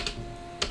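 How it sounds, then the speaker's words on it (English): Keys on a Blackmagic Design Editor Keyboard are pressed to switch live video, giving a few sharp close clicks, one at the start and a pair at the end, in a quiet studio. "this is the Blackmagic Design Editor Keyboard. It's live. I'm using it to switch."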